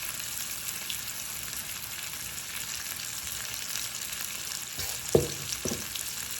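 Honey lemon pepper lamb chops frying in a pan give a steady sizzle close by, with a couple of brief clinks or knocks of utensils near the end.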